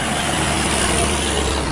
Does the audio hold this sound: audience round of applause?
no